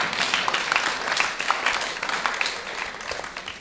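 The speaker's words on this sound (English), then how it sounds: "Let's give them a big round of applause, please." Applause from a temple congregation at a Sunday gathering, a steady, dense patter of many hands clapping that carries evenly and fairly close throughout, with no talk over it.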